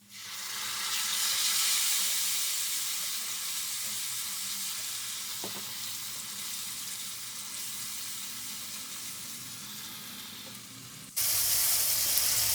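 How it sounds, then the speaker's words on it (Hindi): Tomatoes sizzle and fry in a pan with browned onions for daal, a steady bright hiss that continues unbroken and then surges louder near the end as more goes in; no voices. "अब हम इसमें 2 अदद टमाटर ऐड करेंगे।"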